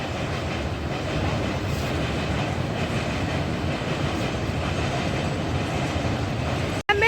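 A train moving along a railway line, its wheels beating a steady clickety-clack under a constant close rumble, with a brief sharp break near the end.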